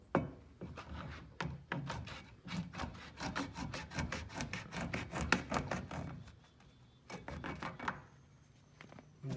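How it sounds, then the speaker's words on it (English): A hacksaw trims the end of a pickup bed divider smooth, giving a close, rapid run of rasping back-and-forth strokes that pause briefly before a final short burst. "take a hacksaw, cut this smooth."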